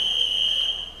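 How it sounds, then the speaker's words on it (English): A swimming race start buzzer at a high school varsity swim meet rings out as one loud, steady electronic tone lasting about a second before it tapers off. "And there's the buzzer"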